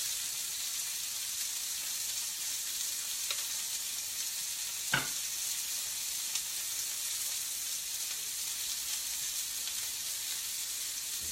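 A red wine reduction sizzles steadily in a pan, a continuous bright frying hiss with one brief scrape or clink midway, close and even throughout.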